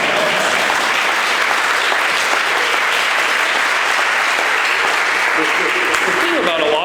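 Audience applause fills a panel discussion hall on whistleblowers and Bradley Manning, a dense, steady wash of many hands clapping at full volume throughout.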